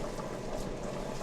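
Diced potatoes boiling in salted water in a pot, a steady low bubbling hiss that runs evenly and close throughout, with no voices.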